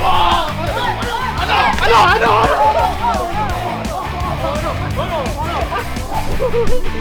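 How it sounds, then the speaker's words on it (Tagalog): Dogs bark and yip repeatedly amid a noisy crowd at a street game of patintero, with excited voices talking and shouting throughout. "May aso tayo!"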